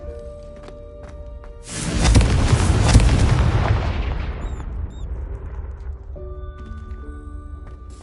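Confringo explosive fire spell going off in Hogwarts Legacy: a sudden loud, broadband blast that roars for a couple of seconds and slowly fades back into quieter game music and ambience.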